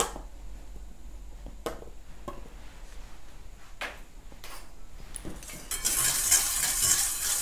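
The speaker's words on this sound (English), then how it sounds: "Now we're just going to give that one a stir until it's nice and homogenous" Body spray mixture with a glycerin-based aloe vera extract stirred in a container, soft scraping and clinking strokes under steady background hiss, growing louder and brighter near the end.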